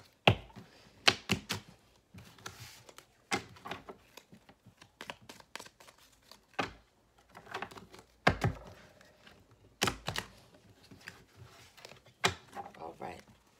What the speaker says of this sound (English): we are going to shuffle the cards up.